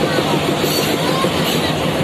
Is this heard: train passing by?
yes